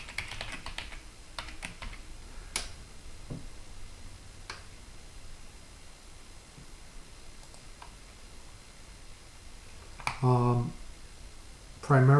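Rapid clicking of computer keyboard keys entering a password into 3CX phone system login software, sparse irregular keystrokes across several seconds, close and fairly quiet, ending in a short louder burst of taps.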